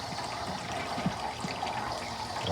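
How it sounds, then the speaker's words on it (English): Water from a garden hose pours into a swamp cooler's reservoir, a soft continuous trickle and splash at close range, faint and steady with small gurgles. "So let that hose help fill it up."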